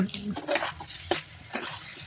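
Mutton stirred and fried in a pot, a few close metallic clinks and scrapes of a spoon against the pot, brief and uneven over a faint background.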